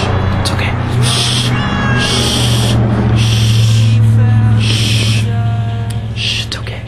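A cat meows repeatedly indoors, several bright, close calls spaced across the moment, while a person talks over it.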